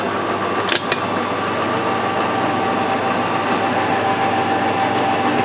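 A metal lathe cutting a workpiece with the steady rest backed off, giving a loud, continuous mechanical whir and drone with a brief click near the start.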